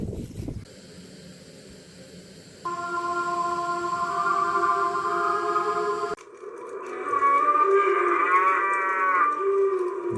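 A cow mooing on a farm, several long drawn-out bellows close by and loud, rising and shifting in pitch, with brief quieter gaps between calls and no talk.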